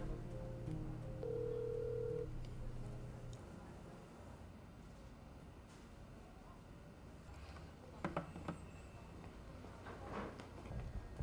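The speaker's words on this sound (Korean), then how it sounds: "다른 사람 번호로 걸어봅니다" A phone call is placed to a number and the line rings. A steady electronic ringing tone sounds for the first few seconds, then fades into faint hiss with a few light ticks.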